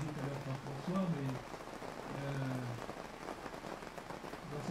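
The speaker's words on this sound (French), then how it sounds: "non seulement nous sommes aspergés par la pluie" Rain falls during an outdoor Sunday mass, a steady hiss and patter throughout, while a voice speaks over it.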